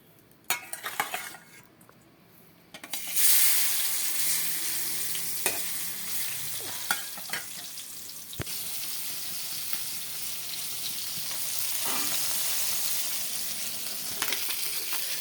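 Koi fish rubbed with salt and turmeric are dropped into hot oil in a pan, bursting into loud continuous sizzling and frying after a few quiet clinks, with occasional utensil taps over the steady spatter.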